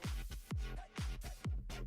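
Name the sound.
reversed reverb vocal effect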